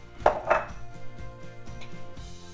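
Two sharp chopping bursts early on as a Thermomix TM6 blade cuts a quartered onion. A low motor hum with a steady rhythmic pulse continues after them.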